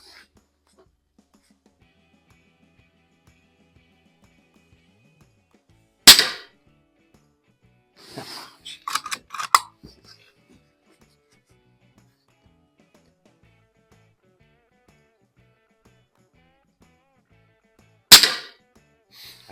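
Two sharp, isolated shots from a Norica Variatus 2.0 BP .22 bullpup air rifle at a shooting range, about twelve seconds apart, with a short cluster of clinks and handling noises between them and quiet background otherwise.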